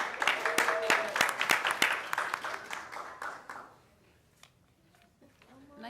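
An audience at a middle school awards ceremony claps, a burst of loud, overlapping hand claps that fades over a few seconds into near silence before a voice begins.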